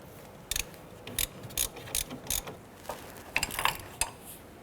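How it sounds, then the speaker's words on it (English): A ratchet tool tightens the inner tie rod on a 2009-2015 Honda Pilot, giving a series of short, moderately loud mechanical clicks in irregular bursts with pauses between them. "I'm going to use this to tighten down the inner tie rod."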